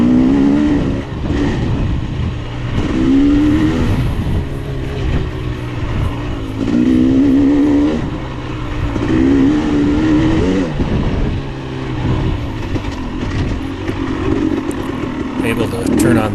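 A 2022 KTM 300 XC-W dirt bike races a hare scramble at Pipsico, its loud, close engine rising and falling in repeated revving surges as the rider works the throttle along the trail.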